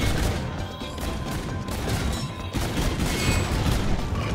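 Constant rapid gunfire in Infinite Warfare's Zombies in Spaceland mode, aimed at zombie clown targets: dense, loud overlapping shots and bangs fill the whole stretch with no pauses.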